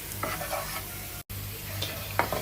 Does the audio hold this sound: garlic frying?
yes